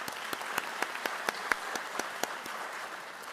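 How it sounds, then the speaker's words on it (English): A modest audience at a Henry County Schools Teacher of the Year celebration applauds the teachers, with soft, fairly sparse claps and a few sharper individual hits standing out in a quiet hall. "Let's give them all a round of applause."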